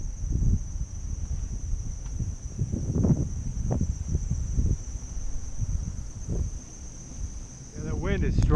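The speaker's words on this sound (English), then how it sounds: "Wind is strong and it is giving me a good push" Strong wind buffets a moving microphone on a bike ride through a coastal wildlife refuge, a steady rushing roar with gusty low thumps, a thin high insect-like whine running throughout.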